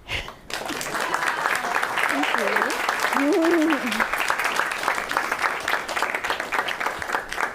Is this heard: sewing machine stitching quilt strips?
no